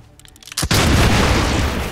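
A sharpshooter's shot destroys a mech in the video game XCOM 2, heard as a few light taps and then a loud, close boom that swells into a long roaring explosion rumble lasting over a second.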